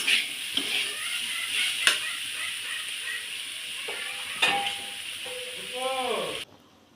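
Jackfruit sautéing in a pan gives a continuous close sizzle and hiss with a few stirring knocks and scrapes, ending abruptly; some faint voice sounds sit briefly within.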